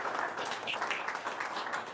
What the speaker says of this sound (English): A round of applause for Dylan,